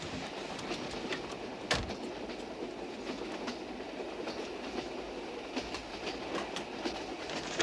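A passenger train runs steadily on the rails with a continuous rumble and faint clatter, a sharp clack near the start, and no voices.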